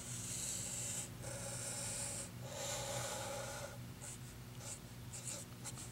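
A right triangle is drawn for a trigonometry lesson, probably with a marker on a board. Several scratchy pen strokes come in bursts of a second or so, then shorter quick marks, close up over a faint steady hum.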